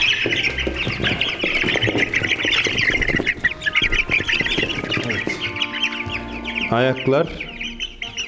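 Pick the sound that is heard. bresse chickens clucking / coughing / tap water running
bresse chickens clucking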